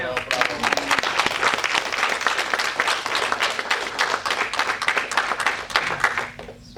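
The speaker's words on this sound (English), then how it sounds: "So round of applause for Bravo, him." Audience applause at a filmmaker Q&A during a Barcelona film festival: dense, steady clapping from a crowd lasting several seconds, then tapering off at the end.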